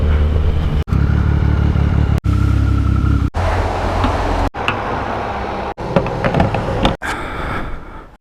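A motorcycle on worn tyres is ridden with a steady, loud engine drone and wind rumble close by, broken by several brief sharp dropouts.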